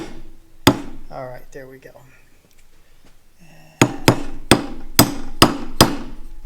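A snug-fitting part is hammered onto an Oliver Super 55 tractor hydraulic pump: one sharp strike, a short spoken remark, then a steady run of six close, ringing metallic taps.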